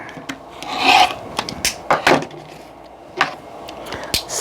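A rotary blade slices quilt fabric units along a ruler for a block of a quilt, heard as several short close scraping rasps separated by brief pauses.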